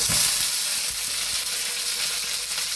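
Curry leaves, green chillies and Kashmiri chilli sizzle in hot oil in a pan for a plantain and prawn thoran, a loud, continuous bright hiss close up with a few faint stirring clicks, no talk.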